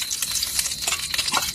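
Food sizzling in hot cooking oil, a steady bright crackle with scattered pops and some stirring, close and loud throughout.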